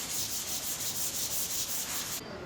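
Primer on a Volkswagen Saveiro car hood is hand sanded, a close, steady, rhythmic scratchy rubbing of abrasive paper in back-and-forth strokes that eases off near the end.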